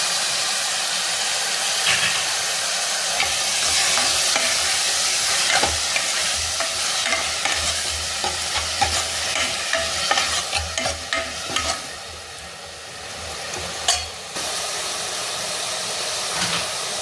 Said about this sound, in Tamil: தக்காளி போட்டுக்கலாம்.